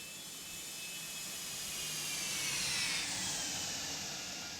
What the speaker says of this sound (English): those beautiful Pratt & Whitney JT 100 engines